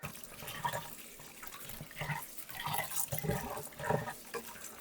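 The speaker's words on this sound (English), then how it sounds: "we're going to carry on washing this until that water runs clear" Tap water splashes over red lentils being washed for dal, the close, uneven sloshing rising and falling in several bursts as the grains are swirled in the running water.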